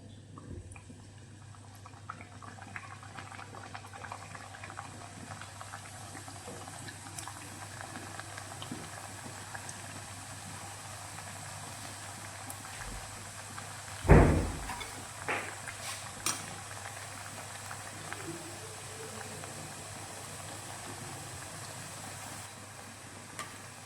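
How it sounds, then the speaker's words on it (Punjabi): Pieces of papdi dough fry one by one in hot oil, giving a soft, steady bubbling sizzle with faint patter, interrupted midway by a brief louder clatter. "ਤੇਲ ਜਿਹੜਾ ਗਰਮ ਹੋ ਚੁੱਕਿਆ ਇਹਦੇ ਵਿੱਚ ਹੁਣ ਆਪਾਂ ਪਾਪੜੀ ਬਣਾਉਣੇ ਆ ਇੱਕ ਇੱਕ ਕਰਕੇ ਪੀਸ ਪਾ ਦਿੰਨੇ ਆ"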